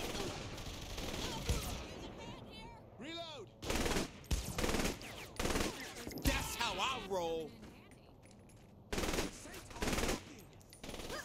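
Bursts of gunfire in Saints Row The Third, several sharp volleys spaced through the scene, interleaved with character voices talking and reacting.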